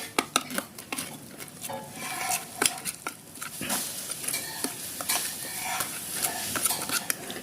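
Egg masala being stirred and mixed in a bowl, with busy clinks and scrapes of a utensil against the bowl in an irregular rhythm, close and moderately loud, and no talking.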